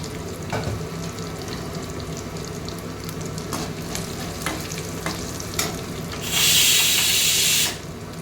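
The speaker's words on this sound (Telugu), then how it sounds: "వేగనిద్దామండి తాలింపు." Tempering of urad dal, mustard seeds, cumin, small onions, garlic and dried red chillies frying in oil, a loud close sizzle broken by sharp stirring clicks and pops, then a brief burst of running water near the end.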